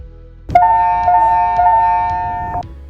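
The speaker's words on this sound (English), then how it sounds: "You will hear 3 chimes" Hospital overhead Code Blue alert chimes, a loud, close, sustained electronic chime tone ringing for about two seconds after a sharp onset, with faint pulses within it and no talking.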